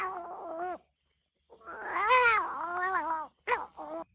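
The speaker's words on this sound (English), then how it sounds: "A squealing cat." A squealing cat sound effect from the film Love Happy: drawn-out, wavering yowls and meows, one long caterwaul in the middle flanked by shorter cries, loud and close with brief silences between.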